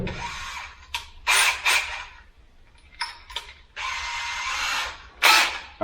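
A power drill with a large bit countersinks a screw hole, running in several short, loud whirring bursts separated by brief pauses.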